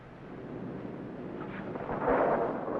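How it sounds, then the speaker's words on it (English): Thunder from an approaching storm rolls as a low, muffled rumble that swells louder toward the end, heard alone. "Seems to be a storm coming out."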